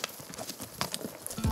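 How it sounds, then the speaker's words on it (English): Horses walk on a high-country ridge during a Wyoming mule deer hunt, their hooves giving a close, uneven string of clip-clops with soft rustling between steps. "Now we're gonna get back on the horses and run this ridge all the way back towards camp"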